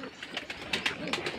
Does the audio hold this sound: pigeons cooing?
yes